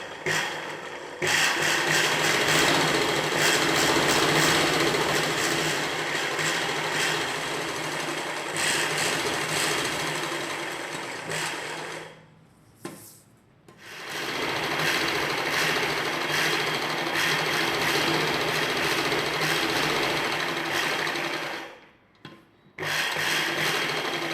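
Sewing machine stitching a lining piece onto a blouse piece, a loud, steady mechanical whir running in long bursts with two brief pauses, close up and without talk.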